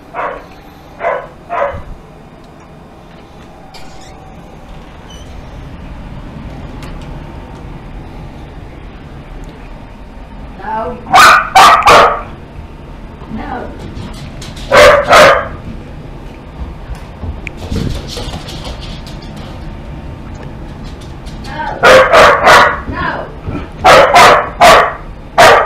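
A dog barks in sharp, loud bursts, several rapid barks in clusters separated by quieter stretches, with faint talk between the volleys.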